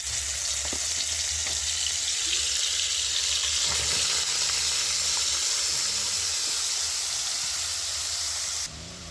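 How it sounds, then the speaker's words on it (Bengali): A ground spice paste fries in hot white oil with a loud, steady hissing sizzle that fills the whole stretch, punctuated by faint spatters and a few light scrapes, then drops slightly in level near the end. "তেলটা গরম হয়ে গেছে, তেলের মধ্যে আমি বেটে রাখা মশলাটা দিয়ে দিচ্ছি"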